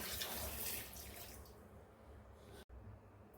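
Coconut water being poured, for a coconut malai shake, makes a faint, steady liquid rush that thins out partway, breaks off for a moment, then continues quietly.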